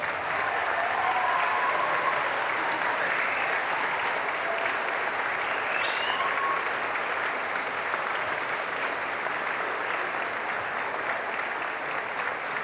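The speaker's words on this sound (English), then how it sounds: "give everybody a round of applause and some cheers" Sustained applause from a large crowd at a graduation ceremony, steady clapping throughout with faint cheering mixed in.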